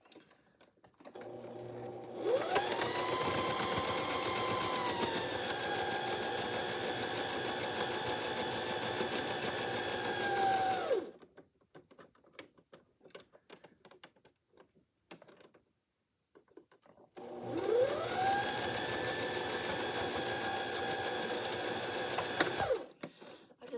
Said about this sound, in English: I'm gonna sew this piece here.